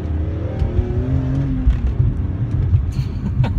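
A 2003 BMW E46 M3 with the S54 engine and SMG gearbox, accelerating hard in second gear from about 30 mph: a loud, close engine note rising steadily in pitch with road and wind noise underneath, no talk.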